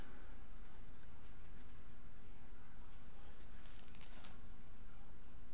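Quick irregular clicking of keys on a computer keyboard, soft and close, over a steady background hum.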